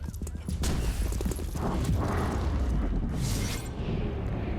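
Door breach in the X-COM Chimera video game: a dull, rumbling blast with debris-like clatter that swells and holds over a few seconds, with faint voice fragments at the start.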